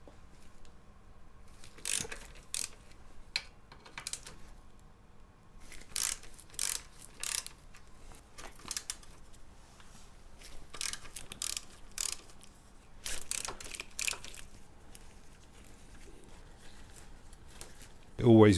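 A hand ratchet clicks in short rapid bursts, undoing the rear subframe bolts on a Yamaha TZR motorcycle being stripped in a quiet workshop, with pauses between each burst.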